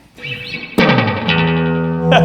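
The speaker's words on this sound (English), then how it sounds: "let's get those repeats just a tad longer, a little bit more intensity, a little more reverb" A Roland RE-201 Space Echo tape echo set to longer repeats and extra reverb, turning a struck tone into a sustained, layered wash of echoing repeats with a fresh attack near the end.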